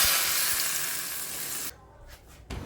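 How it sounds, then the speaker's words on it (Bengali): Hot soybean oil poured over chopped garlic gives a loud, close, broad sizzle and hiss that gradually eases, then drops away suddenly, followed by a few faint clinks and a brief renewed burst of sizzling. "1/4 কাপ সয়াবিন তেল ভালো করে গরম করে রসুন কুচির উপরে ঢেলে দিব"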